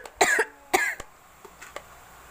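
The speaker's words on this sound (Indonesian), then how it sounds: "Mohon maaf ya bun ya, pengisi suaranya lagi batuk." A person coughs, two strong hacking bursts close to the microphone followed by a couple of softer, fainter coughs in a quiet room.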